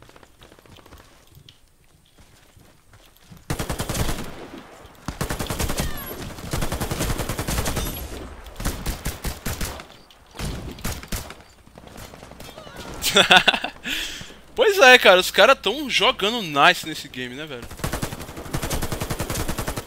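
Rapid bursts of AK-103 automatic fire in the online shooter Warface, loud and repeated in several volleys with short pauses, while someone talks casually over the shooting.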